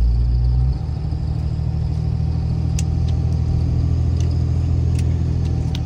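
A Cummins-powered Ram truck with a 48RE transmission and full manual valve body on a test drive, its steady low engine drone rumbling close and loud, with a shift in tone early on, alone without talk.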